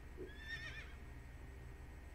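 A horse in the video game Assassin's Creed Origins lets out a brief, faint whinny with a wavering pitch over a low, steady game background, with no talk.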